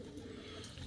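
Pigeons in a dovecote give a short, soft low coo, close by, lasting under a second with no talking.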